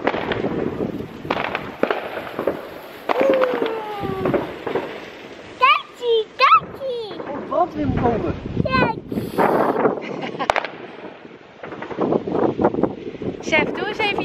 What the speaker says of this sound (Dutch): Wij hebben Nova even binnen gezet en het vuurwerk van binnen gehaald.